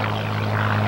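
An Aero Commander Shrike twin-engine propeller plane, flying on one engine with the other shut down, performs a roll at the 1987 Cleveland airshow, producing a loud, steady, unbroken propeller drone.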